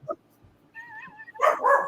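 A dog barks and whines in a few short, close bursts, with quiet pauses between them and the loudest barks near the end.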